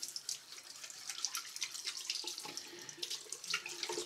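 Water runs steadily from a bathroom tap into a sink while waiting for it to warm up before shaving, a constant hissing splash at close range with no voices.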